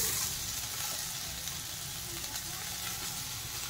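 Potatoes fry in a pan of oil as chopped greens go in, a loud continuous close sizzle and hiss with a faint stirring texture underneath.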